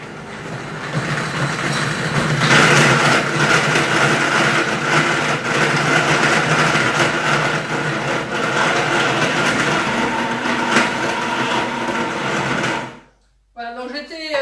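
A blender whirs loud and steady, mixing pear and chocolate ice cream, before cutting out abruptly near the end, followed by a brief spoken voice.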